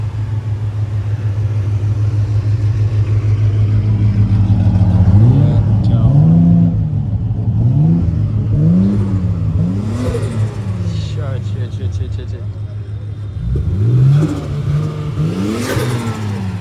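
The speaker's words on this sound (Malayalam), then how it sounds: "ഡോഡ്ജ് സ്റ്റാർട്ട് ചെയ്തിട്ടുണ്ട്, R34 സ്റ്റാർട്ട് ചെയ്തിട്ടുണ്ട്." A Nissan GTR R34 and a Dodge idle loudly with a deep rumble, then rev in a series of rising, falling throttle blips, with another sharp rev near the end.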